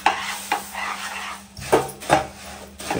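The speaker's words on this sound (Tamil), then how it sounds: "மிக்ஸ் பண்ணிட்டு இதுல பொரி போட்டு கிண்டிக்கலாம்" Puffed rice being stirred into hot jaggery syrup in a pan, a few scraping, rustling strokes with soft sizzling between them, close and clear, with no talking.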